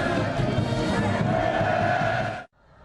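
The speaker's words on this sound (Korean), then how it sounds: "시 주석이 가는 곳은 시민들의 함성 소리로 가득 찼습니다" Crowd of citizens in Pyongyang cheering a visiting head of state, a loud, sustained roar of many voices that cuts off abruptly near the end.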